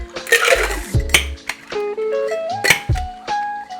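A vermouth cocktail being mixed, with glass and metal utensils clinking and clattering close by in a quick irregular run of bright chinks and knocks, loud and without speech.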